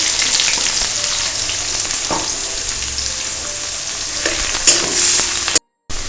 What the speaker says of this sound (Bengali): পেঁয়াজটা ভাজা হতে বেশ অনেকটা টাইম লাগবে, জানো তো।